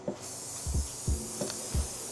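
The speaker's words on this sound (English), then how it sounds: "Sort of ditch cling film now. I just sort of use a spray." Aftercare spray is applied to a fresh tattoo: several short, soft hissing puffs at a steady rhythm over a constant background hiss.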